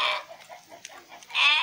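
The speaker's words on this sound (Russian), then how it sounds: "Гоняет, гоняет овцу" A sheep bleats and cries while being chased around a farm, short agitated calls near at first and again at the end, with faint rustling between them.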